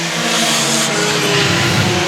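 Pure stock race cars roar around a dirt oval track during a heat race, a loud, dense engine drone with passing cars blending into a continuous roar.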